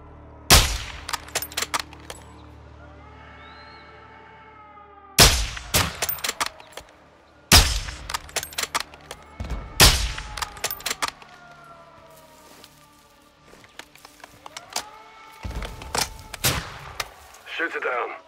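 Gunfire in the Call of Duty Modern Warfare 2 campaign: several loud, sharp shot bursts and volleys spaced a few seconds apart, with rumbling battle noise and brief voices between them.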